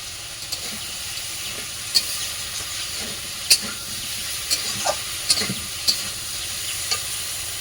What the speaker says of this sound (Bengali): বসে বসে তরকারি বেশ ভালো করে আর কষাই করে নিতে হবে।